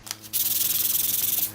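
Brief hand sanding of a wooden toy block, a quick rhythmic rasping scrub of paper on wood, close and fairly quiet, following a couple of soft taps.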